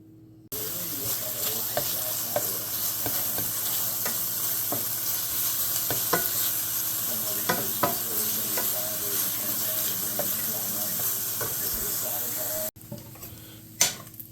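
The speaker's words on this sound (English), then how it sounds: "I'm going to put the bacon in the pan." Bacon renders over medium heat in a pan until crispy for Irish colcannon: a loud, continuous close crackling sizzle dotted with pops and spatters, which cuts off abruptly near the end.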